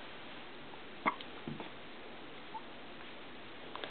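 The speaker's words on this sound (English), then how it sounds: "Do you have the hiccups?" A young child gives a single sharp, quiet hiccup, followed by a few faint small sounds against a soft, steady indoor hiss.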